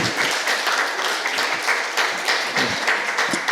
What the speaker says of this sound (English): ladies and gentlemen, a round of applause, please, for our exceptional panel today